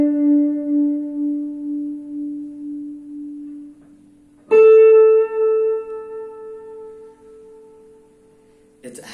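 Electric guitar notes held with a wide circular vibrato, clean and close: one long wavering note fades out, then a second sharply plucked note sustains and wobbles, with a short pick attack at the very end.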